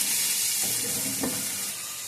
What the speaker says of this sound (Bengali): নোটে শাকটা আমি পেঁয়াজ দিয়ে ভাজা করছি